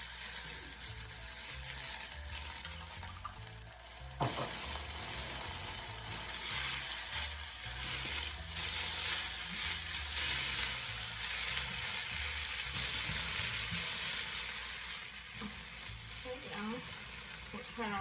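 Cauliflower shrimp fried rice stir-frying in a pan with coconut aminos and sesame oil, a dense continuous sizzle that swells louder midway, with occasional clinks and scrapes of stirring and faint talk in places.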